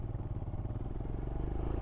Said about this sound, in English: Love the sound of these thumpers. Singles.